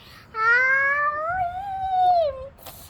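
A voice mimics a cat, drawing out one long, rising-and-falling meow, clear and close.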